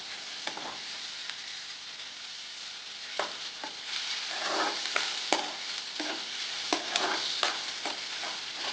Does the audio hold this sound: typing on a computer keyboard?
no